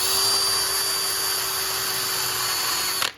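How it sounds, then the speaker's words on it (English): A power tool buffs a rusty exhaust bolt on a Porsche 993, giving a steady, loud, high-pitched whine with a constant tone that runs unbroken for about three seconds before cutting off abruptly. "all I'm gonna do is carefully buff this nut here, or the bolt here"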